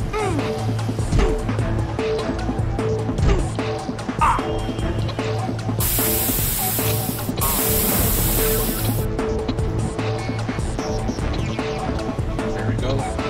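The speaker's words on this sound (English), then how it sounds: "I just wanted to use my pepper spray just in case." Pepper spray hisses in a loud, steady burst for about three seconds, pauses briefly, then sprays again inside a police simulator video game, over continuous game background noise, a barking dog and other in-game sounds.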